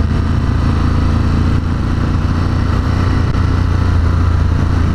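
Ducati Monster 1200 S motorcycle engine in sport mode, a loud, continuous throaty drone that holds steady throughout with slight surges, heard close up with no talk.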